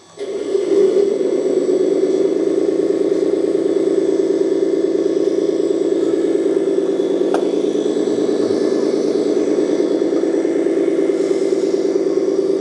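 A 1/14-scale 4x4 RC hydraulic dump truck drives at high speed, its electric motor giving a steady, loud, continuous whine that holds level throughout without pause.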